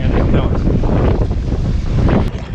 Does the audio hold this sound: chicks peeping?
no